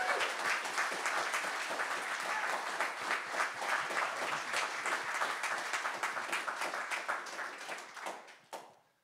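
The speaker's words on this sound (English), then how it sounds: "Let's be obnoxious and loud and clap them into blushing here." Sustained audience applause at a resolutions event in Washington, a dense roomful of clapping that holds steady for several seconds, then thins and fades out near the end.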